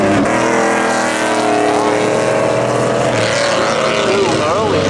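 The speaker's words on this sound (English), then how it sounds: "Going up against Don in the 88 Camaro. Drag race down into 1." At the start of a drag race, an '88 Camaro and a '97 Trans Am roar together at close range on a speedway. The loud, continuous engine noise climbs in pitch as the cars accelerate away, and a commentator's voice runs over it.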